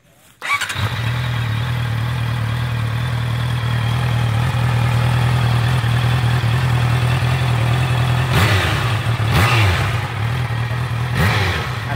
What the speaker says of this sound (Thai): สตาร์ทท่อเดิมให้ฟังหน่อยครับ ท่อเดิมๆนะครับจากโรงงานเลย